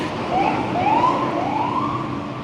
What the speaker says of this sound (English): Fire truck? Is it an ambulance? Fire truck.